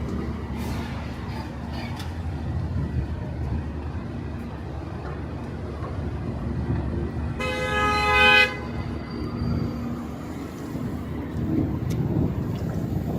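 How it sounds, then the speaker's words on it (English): A single car horn honks for about a second over steady downtown Toronto traffic rumble, fairly close and loud against the background. "I got honked at for standing on the sidewalk."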